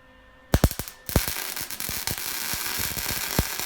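A wire-feed welder crackles and pops while welding a cart, starting with a few sharp separate bursts, then settling into a denser run of snapping pulses that continues to the end.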